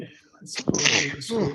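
A single sneeze bursts out mid-sentence during a live trading session, loud and close, set among continuous talk from several voices before and after it.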